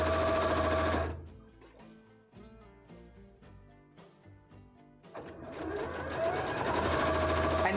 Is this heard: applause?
no